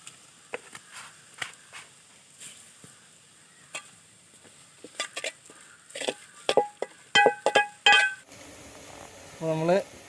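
Sliced onions with half a teaspoon of salt sizzling in a pan while someone talks over them, a faint steady fry under her voice with scattered stirring sounds.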